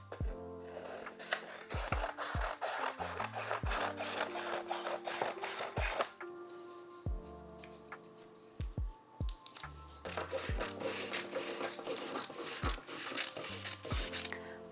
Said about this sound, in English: Then cut away the excess where scissors are marked and tape all the pages together.